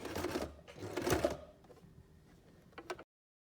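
A sewing machine runs a straight stitch around the edge of a needle case: two fast, close mechanical whirring bursts, then a fainter stretch and a few short clicks before it stops.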